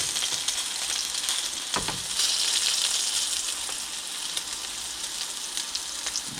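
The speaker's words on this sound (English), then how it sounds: "so I'm going to let it sear just a little bit longer" Salmon fillet searing in a hot oiled pan gives a steady close sizzle and crackle, with a few sharper pops and spits rising above the frying hiss and no voices.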